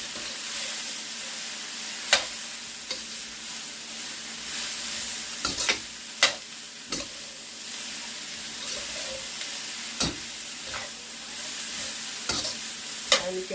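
Stir-fried vegetables in a pan, a steady soft sizzle broken by sporadic spatula scrapes and clacks against the pan, moderately quiet, with no voices.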